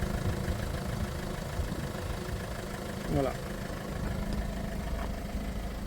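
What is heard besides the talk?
Peugeot 1.4 HDI diesel engine idling while warming up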